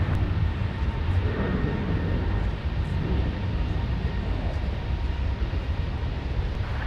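A Delta airliner, flight 160 bound for Amsterdam, takes off at Minneapolis–Saint Paul airport with a steady, loud, broadband jet roar that holds evenly throughout, without talk.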